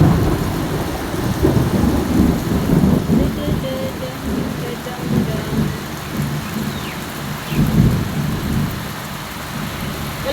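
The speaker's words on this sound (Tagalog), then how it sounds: "Lamig kayo sa ulan, oh." Heavy rain pours steadily through a hot morning, a dense, continuous hiss with low rumbling swells like distant thunder, loud and unbroken for the whole stretch.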